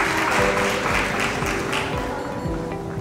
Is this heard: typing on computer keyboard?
no